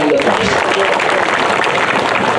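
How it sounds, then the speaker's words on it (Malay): Crowd applause at a political rally, dense and steady throughout, a large audience clapping loudly together with a hint of cheering mixed in. "Marilah kita bagi satu tepukan yang gemuruh bagi warga bayang lepas."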